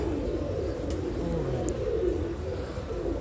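Pigeons cooing, low soft coos blended into a steady dense background, with a couple of brief faint higher chirps, no clear talking.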